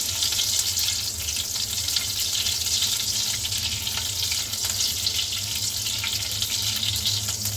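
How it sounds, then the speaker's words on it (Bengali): A tablespoon of spice paste fries in a little oil for a pineapple khatta mitha, producing a steady, close, hissing sizzle that holds at an even level throughout without any talk. "এবার দিয়ে দিলাম 1 টেবিল চামচ বাটা, সাথে সামান্য পরিমাণ তেল দিয়েছি।"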